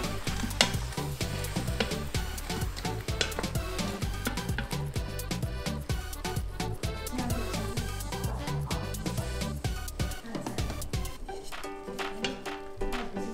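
Tomatoes stirred in a pan for a vegan soup, giving steady scraping and a soft sizzle with dense, rhythmic clatter throughout, close and fairly loud, with no voices.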